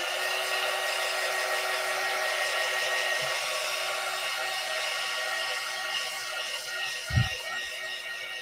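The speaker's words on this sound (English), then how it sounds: "So I'm going to dry it with my heat gun." A heat gun blows steadily on a painted pottery jar, a loud, even, constant whir with a faint thump near the end, no talking.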